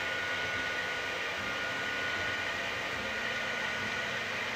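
A Sovol SV08 3D printer runs with a steady, broad whooshing hiss of fans and motion that holds constant throughout, close and without pauses.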